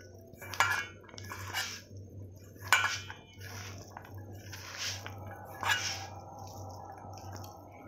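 Hands squelching and kneading meat with spices in a bowl, soft wet squishes with a few clinks against the bowl at irregular intervals, quiet and close over a steady low hum.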